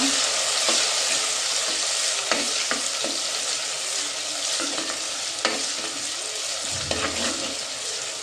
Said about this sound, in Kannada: ಈಗ ಒಂದು ಟೊಮೆಟೊ ಹಾಕಿದ್ದೀನಿ ಇದಕ್ಕೆ ಇದನ್ನು ಚೆನ್ನಾಗಿ ಫ್ರೈ ಮಾಡುವ